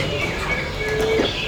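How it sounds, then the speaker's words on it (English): Birds calling at Mandai Bird Paradise, a few chirps and a clearer whistled call near the end over a busy, steady background. "Oh my god, got a lot of those birds."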